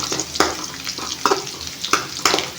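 Ingredients for chitrannam frying in a pan, a continuous sizzle broken by several sharp scraping stirs at regular intervals, close and fairly loud.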